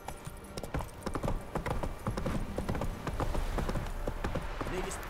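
Roach the horse galloping in The Witcher 3: Wild Hunt, rapid rhythmic hoofbeats pounding close and loud, with a voice heard briefly over them.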